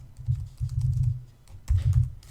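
Soft keystrokes on a computer keyboard in short bursts with brief pauses, close and quiet, no talking.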